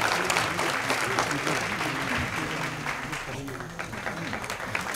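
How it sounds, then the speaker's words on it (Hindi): Audience applause at the inauguration of the 5th Dehradun International Film Festival, a steady, dense clapping throughout, with a host's voice and background speech running underneath. "एक बार जोरदार तालियां हो जाए"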